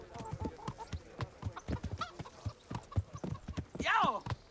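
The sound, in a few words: horse hooves clip-clopping, from the video game Kingdom Come Deliverance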